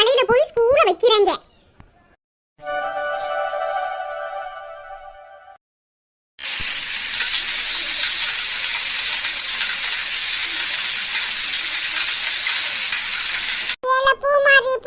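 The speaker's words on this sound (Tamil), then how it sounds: "இப்ப பாரு, மழை பெருசா வந்துருச்சு." Heavy rain pours down in a dense, steady hiss for several seconds outdoors, with children and adults talking briefly before and after the downpour.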